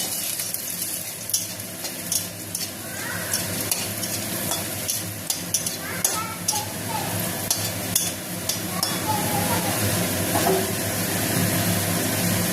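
Chopped garlic fries with already-fried eggplant in a pan, a continuous sizzle broken by repeated scraping and clanking stirs of a spatula, close and fairly loud throughout.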